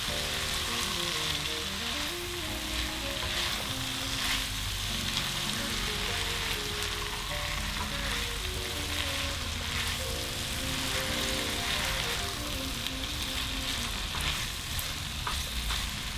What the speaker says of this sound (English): Gently toss everything together until every piece of pasta is coated in the flavourful